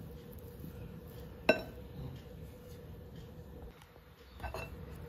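A utensil clinks once sharply against a bowl while potato salad is gently mixed in a home kitchen, followed by quieter scraping and stirring under a faint background hum.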